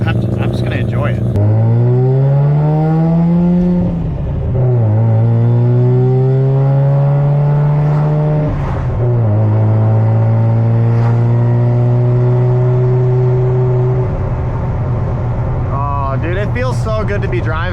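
A Mazda RX-7 FD rotary engine revs loudly while driving, its pitch rising and falling through several long pulls and gear changes, steady and close throughout.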